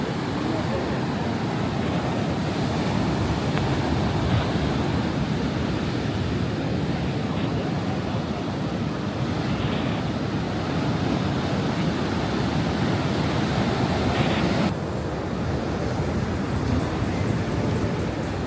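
Heavy surf pounds Benidorm's Levante beach in a continuous loud roar of breaking water, mixed with gusty wind buffeting the microphone for the whole stretch.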